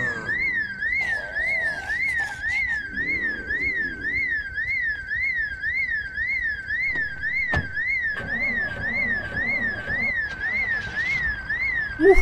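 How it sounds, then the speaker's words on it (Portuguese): A car alarm goes off at a warehouse in the zombie survival game Project Zomboid, a loud, steady, looping warble that wails nonstop from start to end over faint game noise. "Eu não falei que toca alarme nessas merdas"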